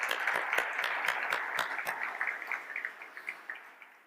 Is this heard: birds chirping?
no